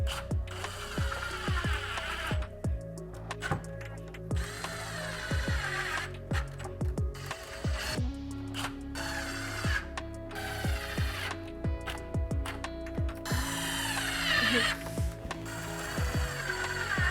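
A power tool drives screws while a carbon fiber front lip goes onto a 2022 Dodge Charger Hellcat SRT Widebody, giving repeated short whirring bursts with ratcheting clicks, separated by brief pauses, loud and close.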